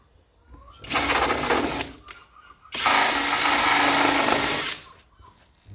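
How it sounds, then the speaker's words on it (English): A power drill bores into a box: two long, loud, steady whines, the first about a second long and the second nearly two seconds, separated by a brief pause, with no talking. "drill this out."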